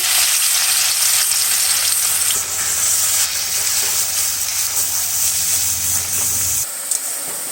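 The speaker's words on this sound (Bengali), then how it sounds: "এবার আমি আলুগুলো অল্প অল্প করে তেলে ছেড়ে ভেজে তুলে নেব।" Thinly cut potatoes frying in oil for crispy jhuri aloo bhaja make a loud, constant hissing sizzle close up, which drops off briefly near the end; nobody talks.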